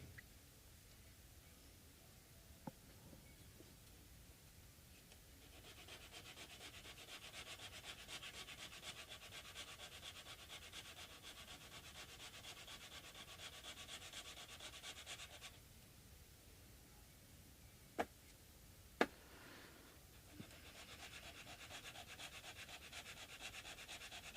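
Sandpaper rubbed steadily against a vintage Japanese Barth guitar bridge, a long run of close, even back-and-forth scraping with a few sharp knocks near the end, no voices.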